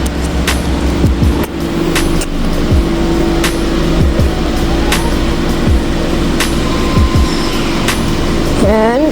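A Toyota car driving with a steady engine hum and road noise, heard loudly from close by, with a rising whine near the end as it comes to a stop.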